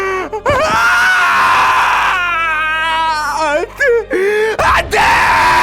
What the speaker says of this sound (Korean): 숨이 끊어진 약혼자를 보고 의뢰인은 절망에 찬 비명을 터뜨렸다